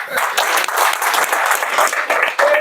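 A workshop audience at a neurotherapy training event in Delhi breaks into dense, sustained applause, many hands clapping steadily and fairly close for the whole stretch.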